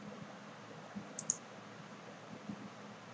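Two quick, soft mouse clicks close together over a quiet background hiss, made while pressing an OK button in ArcGIS Pro mapping software.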